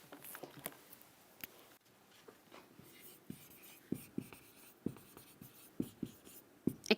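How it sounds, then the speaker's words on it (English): Marker or chalk writing on a board during an English grammar lesson, a series of soft scratchy strokes and light taps at an irregular pace, close and fairly quiet with no talking. "let me write here"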